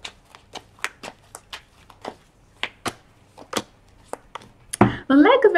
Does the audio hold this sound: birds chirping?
no